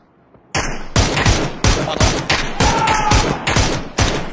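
Repeated gunfire in the PUBG battle royale game, a series of loud, close single booming shots fired one by one in a steady rhythm, about eight blasts over a few seconds after a brief quiet start, with no talk.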